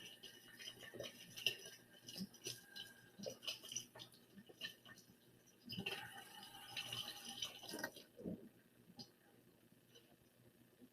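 Water rinsing out a glass container in a reaction rate lab, faint intermittent splashing and gurgling with light clinks, close but quiet, no talk.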